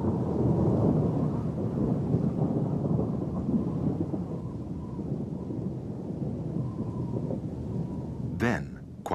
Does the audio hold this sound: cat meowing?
no